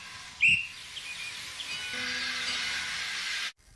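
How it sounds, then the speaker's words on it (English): A guard's whistle on a steam railway blows in one short, shrill blast near the start, followed by a long, steady hiss that fades out. "Oops, that's the guard's whistle."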